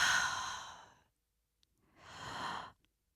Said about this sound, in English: let me do some big breaths